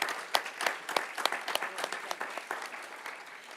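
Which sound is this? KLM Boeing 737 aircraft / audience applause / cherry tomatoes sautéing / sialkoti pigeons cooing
audience applause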